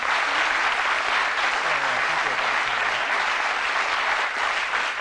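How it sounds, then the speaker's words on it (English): Steady, dense applause from a 1982 television game-show studio audience, loud and continuous throughout with no pause. "They're going to applaud you in a minute."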